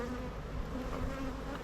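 Honeybees buzzing around backyard beehives in spring, a steady, dense hum of many insects close by, continuous with no talking.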